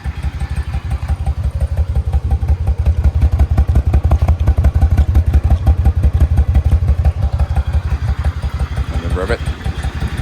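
Yamaha V-Star 1100 custom motorcycle fitted with Cobra slip-on mufflers, a loud, close, lumpy V-twin exhaust pulsing steadily throughout with rhythmic thumping beats, with a brief voice near the end.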